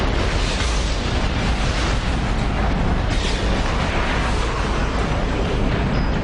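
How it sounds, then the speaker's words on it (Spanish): An explosion in a Singapore hotel, heard as a sustained, dense roar of broadband noise that stays loud and unbroken throughout with no distinct onset. "¿Podría tratarse de un nuevo escape de gas que provocó una explosión?"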